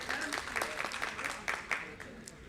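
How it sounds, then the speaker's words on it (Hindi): An audience at a formal public event for an LED installation programme in Delhi gives a steady round of applause, with a crowd's brisk clapping running throughout and a voice speaking over it. "आपके लिए जोरदार तालियां"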